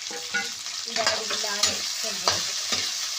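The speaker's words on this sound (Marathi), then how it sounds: "आता त्यांनी ते व्यवस्थित तेलामध्ये मिक्स करून घ्यायचं काम चालू आहे" Okra mixture being stirred in hot oil in a home kitchen, with a spoon scraping and clattering against the pan in uneven strokes over a steady close sizzle.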